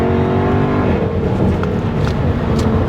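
Jaguar F-Type V8 R pulling hard in fourth gear from about 40 mph, a loud, close, deep engine roar that climbs steadily in pitch, with no one talking.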